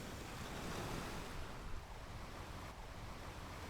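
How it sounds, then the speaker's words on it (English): Sea waves washing onto a sandy beach on a gentle summer day, a continuous soft surf roar with wind noise, steady and close, no voices. "letting the quiet hum of the sea fill the space around her"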